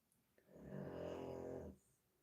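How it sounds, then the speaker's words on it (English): A dog snores through one drawn-out, rumbling breath with a nasal rasp, close and fairly soft, set against a quiet room while someone paints with stamps. "it is very zen to watch you paint with a snoring doggy in a headphone"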